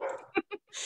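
A dog barks indoors in two short, sharp yips close to the microphone, with speech just before and just after.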